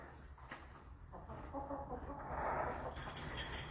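Soft hen clucking and low murmuring fowl sounds close by, gradually growing a little louder, with a brief higher squawk near the end.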